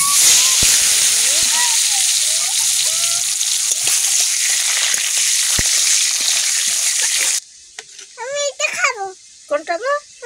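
Chicken meat sizzles loudly and steadily in a hot pan nearby. The frying then drops away, and a voice and other speech follow.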